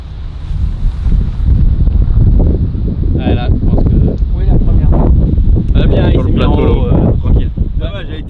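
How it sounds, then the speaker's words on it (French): Strong gusting wind on a golf course buffets the microphone with loud, continuous low rumble throughout, with a voice briefly audible beneath the roar. "Un peu trop de vent là, il y a énorme de vent en fait en haut."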